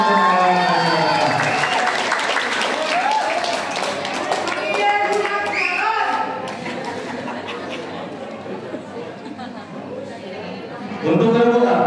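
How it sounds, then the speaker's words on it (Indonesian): An audience at the final round of an Islamic quiz competition for a women's study group claps steadily amid chatter. The applause is moderately loud and fades somewhat toward the end. "Penonton, berikan tepuk tangan untuk masyarakat"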